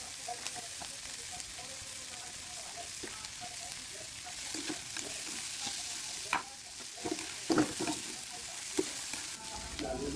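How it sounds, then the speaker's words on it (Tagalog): Fried tofu sautéed with garlic, onion and bell pepper in a hot pan: a steady sizzle throughout, with occasional stirring scrapes and clinks of a utensil, close and fairly quiet. "Ilagay na natin yung pinirito natin na tokwa at igisa natin."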